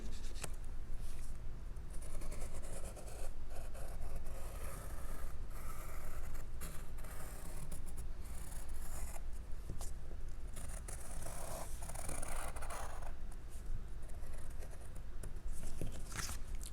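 A pen traces outlines on paper for the pages of a post-and-screw book, giving a soft, steady scratching that runs throughout with small irregular strokes. It is faint and close, under a constant low background hiss.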